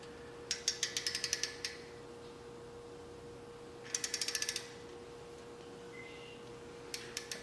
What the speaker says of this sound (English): I'm tightening up the windage tray